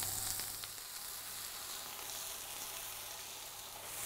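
Garlic mushrooms pressed between two cast iron pans sizzle in a steady, dense hiss that stays even throughout, heard alone without talking.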